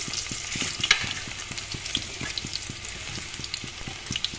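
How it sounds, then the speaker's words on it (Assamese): Garlic cloves frying in hot oil, a steady crackling sizzle with little stirring clicks close by, no voices. "অলৰেডি তেল গৰম হ'বলৈ দি দিছো এয়া নহৰু কেইটামান এনেকৈ তেল দি দিছো"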